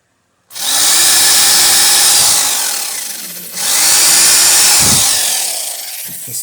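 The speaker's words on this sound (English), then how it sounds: "That was just the drill for the screws" A power drill whines loudly in two long bursts driving screws into wood for a cupboard, pitch sagging as it bites, with a brief pause between runs.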